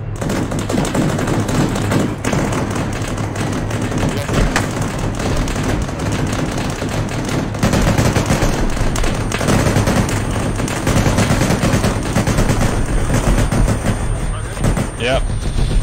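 Sustained gunfire in the Arma 3 video game, with machine-gun bursts and scattered shots sounding loud and continuous throughout, some nearer and some more distant. A voice talks briefly over the shooting.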